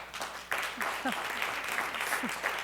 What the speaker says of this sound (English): you need to hold that applause